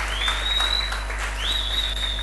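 A church congregation applauds in acclamation of the Lord during a Sunday service: steady, dense clapping throughout, with a high sustained tone gliding over the crowd.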